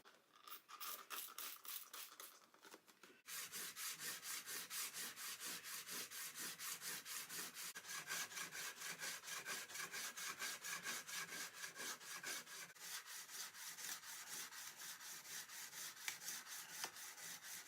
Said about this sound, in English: I'm going to sharpen up these chisels on the diamond plates